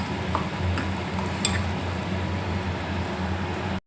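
Small garlic cloves sauté in oil in a pan while vadagam kuzhambu is being cooked, giving a steady, soft, close sizzle with a few faint clinks.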